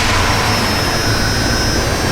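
A campervan engine turns over and settles into a steady, loud, close running roar with constant broadband noise and no voices.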